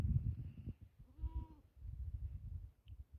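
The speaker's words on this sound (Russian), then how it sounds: "Это козел, козлище. Козел. Еще маленький, ему 5 месяцев." A single short bleat from a young male goat, five months old, in a village yard, heard once at moderate distance over low rumbling background noise.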